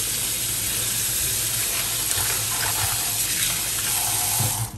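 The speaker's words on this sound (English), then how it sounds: "wash it off with cold water" Salad vegetables rinsed under a cold kitchen tap, a steady close gush of running water splashing into a sink, continuous and fairly loud before easing off at the end, with no one talking.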